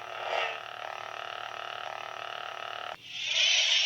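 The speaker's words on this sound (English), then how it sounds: "my biggest problem with this lightsaber though is the sound" A steady electric buzzing hum from a Qui-Gon Jinn Legacy toy lightsaber drones for about three seconds, then cuts to a brighter crackling flare, like a saber clashing.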